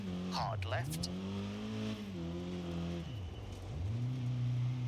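Peugeot 205 GTI rally car engine in EA WRC revving up through several gear changes as it sets off, rising and dropping pitch in repeated sweeps, loud and close, with a voice briefly heard under it.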